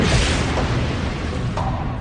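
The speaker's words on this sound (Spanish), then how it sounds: "Calcularemos la energía liberada por esta explosión" A chemical charge detonating inside a metal barrel in a test simulation, heard as a sustained loud, rumbling boom that fills the whole stretch with dense roar and little letup.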